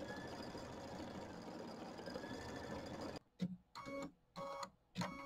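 An embroidery machine stitches a quilting design on a quilt block with a steady, even whirr, then switches to short bursts of stitching broken by pauses.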